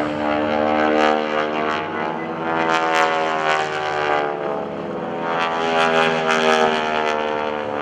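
GEICO Skytypers propeller airplanes making a low pass at an airshow, a loud sustained multi-engine propeller drone with a strong harmonic hum that swells and fades slightly as the formation passes overhead.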